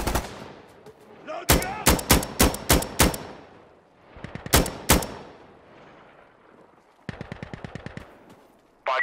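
Gunfire in Insurgency: Sandstorm, loud bursts of rapid shots in clusters with pauses between, then a faster tight rattle of automatic fire near the end.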